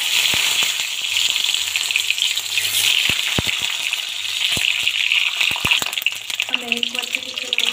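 Eggs frying in a pan for a dhaba-style egg curry, crackling and sizzling steadily and loudly throughout, with a few sharp pops and faint talk or clatter near the end.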